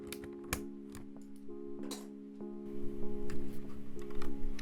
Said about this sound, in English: First we're going to be removing all the keycaps so we can reach the screws and the switches.